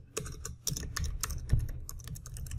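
Rapid keystrokes on a computer keyboard while code is entered, irregular clicking bursts close up and fairly loud, no talking.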